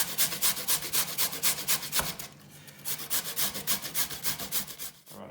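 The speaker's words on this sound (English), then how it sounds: "it's easier actually to grate when I'm not sitting on a board surface like this" Carrot grated by hand on a grater held off a board surface, a rapid run of close, rhythmic rasping strokes with a brief pause midway before the steady scraping resumes.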